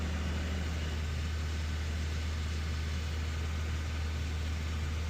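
A 2010 Honda Civic engine holds at about 2,500 RPM with the AC on, giving a steady, even drone with no speech.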